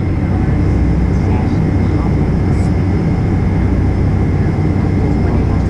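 A United Boeing 747 sits on runway 28R at SFO before takeoff, its engines giving a steady, loud broadband roar with deep low rumble throughout, heard from inside the aircraft without clear talk.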